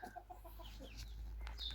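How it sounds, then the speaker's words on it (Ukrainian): Hens cluck softly and intermittently in a poultry yard, a series of short, low, rhythmic notes close by, with a sharper bird call near the end. "курочки вже починають щось там потрішки сокурити"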